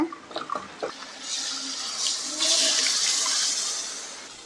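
Water is poured into a pot of drumstick sambar with mashed dal, a splashing, gurgling rush close by that builds and holds for a few seconds before easing, with no talking.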